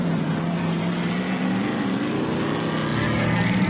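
Off-road race vehicles at the MetalCloak Stampede roar past in a steady, loud engine drone that swells slightly as a group of three comes through the course.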